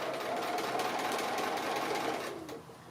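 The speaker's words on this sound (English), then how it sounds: "I'm just stitching just close to the edge of the applique there" A sewing machine runs steadily, stitching close to the edge of an ice cream applique with a continuous rapid mechanical whirr and needle rhythm, then slows and stops near the end.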